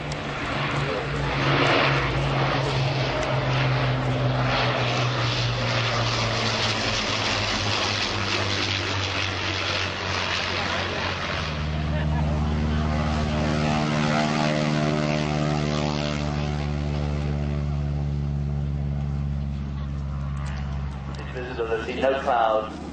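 A twin-engine warbird bomber with propeller engines drones past at an airshow at Shoreham, its loud engine note rising and falling in pitch as it passes, with an announcer talking over it.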